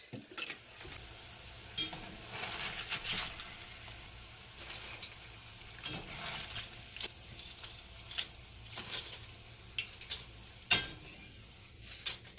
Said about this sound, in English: So my tortilla chips are nice and golden, and I can hear them, that they're real nice and crispy.